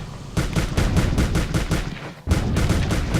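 Rapid bursts of automatic gunfire from an online shooter video game, loud and close, in repeated rattling volleys with a brief pause before firing resumes.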